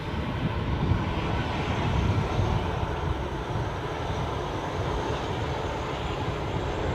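A Gamma Aviation aircraft starting its engines at Aberdeen Airport, heard up close as a rough, rumbling engine noise that swells slightly early on and then settles into a steady drone.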